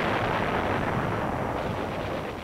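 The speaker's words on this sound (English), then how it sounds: "American shelling drives the Jap troops into the open." Dense, sustained rumble of American artillery shelling in Manila in 1945, with continuous broadband booming and blasts blending into a steady roar throughout, no voices.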